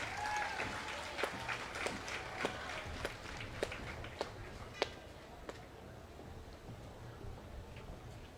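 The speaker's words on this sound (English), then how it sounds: "Let's give them a round of applause." Faint, distant applause from an audience at a national STEAM fair awards ceremony, as the first-place team is honored, with a few sharper claps nearby and a steady crowd murmur underneath.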